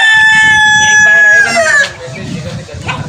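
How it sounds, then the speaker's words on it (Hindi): A young fighter-breed rooster crows loudly and close by, one long drawn-out call lasting nearly two seconds, then breaks into a few softer, scattered clucks. "अब ये भी पिद्दू नहीं रहा, अभी किस्म का फाइटर मुर्गा बनना ह"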